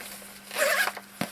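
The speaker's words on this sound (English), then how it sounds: "Zip up, and all goes nice and neat for your travel." A zipper pulled shut on the pouch of a folding 13-watt solar panel, one quick rasping zip that swells and fades, followed by a short sharp click as it finishes, close to the microphone.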